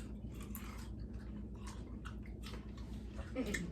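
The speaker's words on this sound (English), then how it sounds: "Let's all crunch at the same time." Several people bite into crunchy green grapes at once, giving a cluster of crisp, close crunches and wet chewing sounds, with light voices murmuring in the background.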